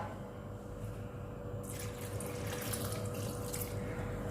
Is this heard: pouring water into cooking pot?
yes